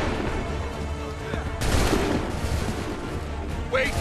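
Musket firing squad volley in Assassin's Creed III, a crackling burst of gunfire over constant battlefield din, with shouted voices nearby.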